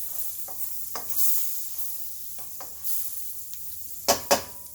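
About two tablespoons of butter sizzle in a pan while pork chops cook, a steady hiss with a few light scrapes and two sharper clattering knocks near the end.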